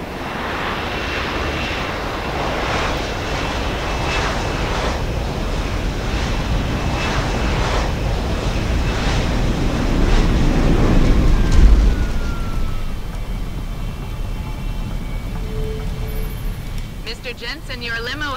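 Aircraft arriving in the video game Deus Ex: Human Revolution, a steady engine roar with rushing wind that swells and then fades, with voices talking over it.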